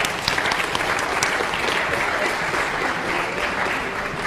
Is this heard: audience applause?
yes